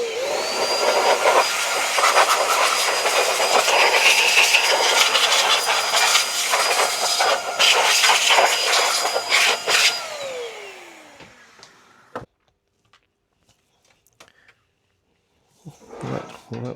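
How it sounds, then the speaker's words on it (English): Compressed air blasting dust out of a TEAC VRDS-7 CD player, a loud continuous hissing roar lasting about ten seconds before cutting off, followed by near silence and a few faint clicks and handling noises. "we'll just give it a quick blowout"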